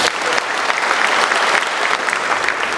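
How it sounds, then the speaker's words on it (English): Dense, loud applause fills a convocation hall at a state forest service academy as the crowd honours a gold medal winner, a continuous wash of many hands clapping with no pause. "Let's clap for her."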